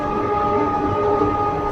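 A passenger train runs on the Kolkata to Murshidabad line, a loud, continuous rumble and rattle of carriages heard from on board, steady and without speech.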